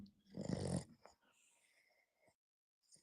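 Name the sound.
man snoring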